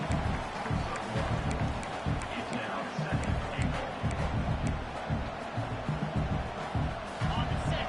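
A football stadium crowd roars as a red-zone stand looms, a dense, continuous wash of cheering and noise with a commentator talking over it.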